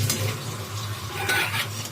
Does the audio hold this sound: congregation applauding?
no